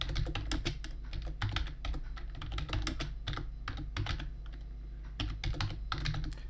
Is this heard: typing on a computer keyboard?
yes